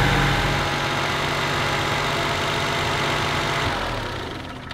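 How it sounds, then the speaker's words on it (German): Maserati engine idling smoothly, either a Maserati 430 or a Biturbo, with a steady, even rumble and faint mechanical vibration throughout, close by and with no talking. "der Motor läuft ruhig, schüttelt sich nicht"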